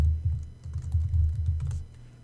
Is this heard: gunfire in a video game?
no